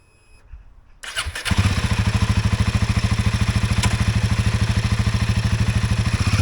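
A Royal Enfield Himalayan 450 motorcycle engine cranks and catches, then settles into a loud, steady, rapidly pulsing idle up close.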